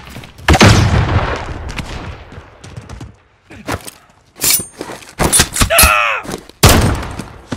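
Game combat in Call of Duty: Modern Warfare, with a flashbang grenade going off among loud, sharp blasts and thuds, separated by short gaps, plus a ringing whine in the middle.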